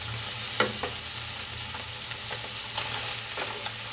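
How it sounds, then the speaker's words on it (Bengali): Small puti fish frying in a pan with salt, turmeric and chili, a steady soft sizzle with a few light stirring scrapes, close and fairly quiet with no talking. "লবণ, হলুদ, মরিচ এগুলো দিয়ে ভেজে নিচ্ছি।"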